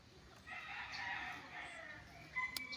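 Chickens kept in coops on a rural farm lot in Liliw, Laguna, with a rooster crowing and hens clucking at moderate distance, forming a steady layered chorus, and a brief sharper call near the end.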